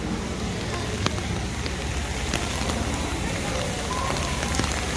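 Steady, dense hiss of rain falling on surfaces at Disneyland, with occasional sharper drip taps, continuous and fairly soft throughout.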